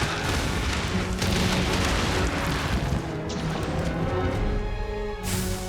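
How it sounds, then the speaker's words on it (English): Exploding pine cones thrown by a Bishaten subspecies in the Monster Hunter video game, a dense roar of booming blasts and crashes layered over game music, loud and continuous. "this Bishaten throws exploding pine cones"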